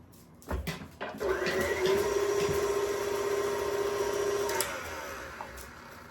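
An electric mixer beats lemon cake batter with four eggs, a steady whirring motor hum running for about three seconds before cutting off, close and loud, with no talking.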